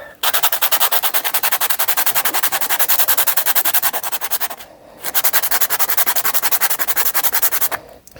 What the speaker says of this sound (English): get that rough edge off. Bit of sandpaper.